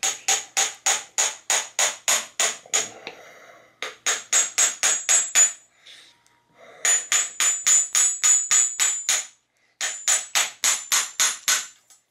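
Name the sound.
hammer driving star nut setter into steerer tube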